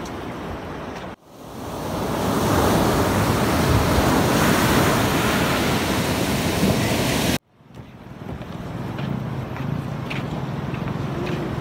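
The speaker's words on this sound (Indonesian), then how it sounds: "Masih di pantai Cibubur." Waves and wind roar at Cibubur beach, a dense continuous wash of surf with heavy wind noise on the microphone, cut briefly by two sharp breaks in the recording.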